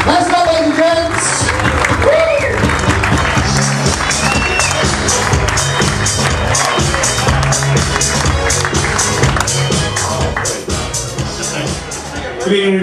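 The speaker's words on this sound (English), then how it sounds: "give a round of applause" Audience applause and cheering for the owner of a snooker centre, a dense wash of clapping filling the room for the whole stretch, with crowd noise and some voices mixed in, easing slightly near the end.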